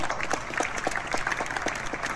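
Audience clapping for a panel at a conference, with moderate, uneven individual claps close by that carry on steadily.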